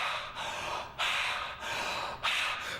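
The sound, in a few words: heavy deep breathing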